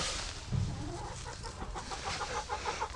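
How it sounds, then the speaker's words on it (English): Low, faint clucking comes from a hen incubating duck eggs, a loose run of short close murmurs that quickens toward the end. "So the chicken is incubating eggs for us here"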